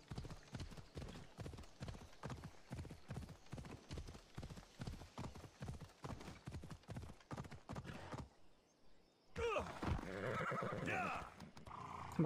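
Hoofbeats of a horse galloping in the game Assassin's Creed Odyssey, a steady rapid clip-clop for about eight seconds, then a pause and a loud, close whinny.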